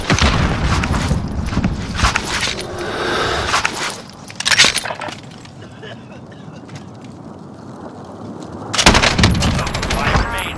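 Bursts of gunfire in a Call of Duty battle royale match, sharp clustered shots at the start, around four seconds and again near the end, with game radio voices calling out over the action.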